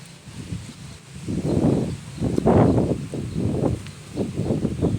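Gusty wind sweeps along a roadside, buffeting in low, rolling surges that rise and fall several times, loud and close with no speech.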